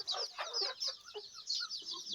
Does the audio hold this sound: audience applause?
no